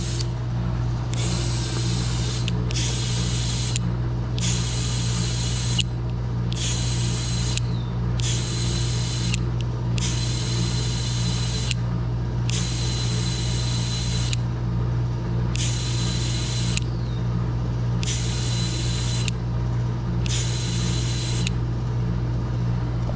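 Air hisses in repeated short bursts into a dry-rotted tire on a 1988 Honda Fourtrax 200 ATV, each burst separated by a brief pause, over a steady loud compressor drone close by.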